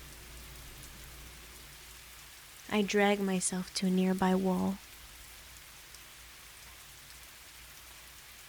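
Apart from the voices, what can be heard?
rain falling, from the video game Fallstreak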